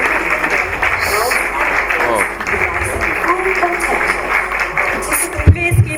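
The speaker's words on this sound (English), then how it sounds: "A round of applause, please." Applause from an audience at a film premiere and awards ceremony runs throughout, with people talking over the clapping.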